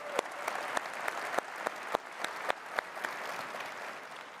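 A large conference audience applauds with a broad wash of clapping from many hands. Several sharper, closer claps stand out at intervals within it.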